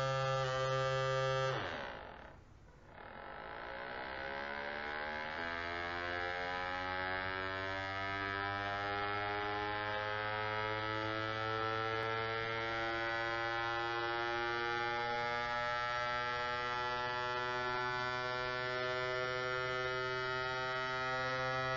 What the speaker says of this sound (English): We will now show you the motor in action.